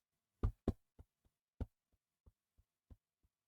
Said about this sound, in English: he's walking up the stairs